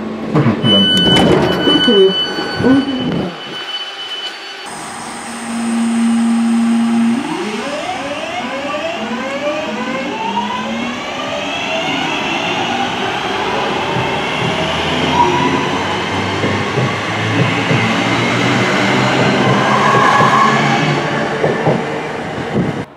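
A simulated train pulls out of Manchester Airport station: door and departure sounds give way to rising motor whine and rumbling wheels that build steadily and hold loud, with a brief announcement-like voice near the start.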